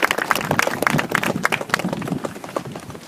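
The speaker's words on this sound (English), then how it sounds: "Give them a great round of applause because Roy did so much" An audience at a learning centre naming ceremony applauds, a brisk, dense patter of hand claps lasting a few seconds, fairly close and continuous.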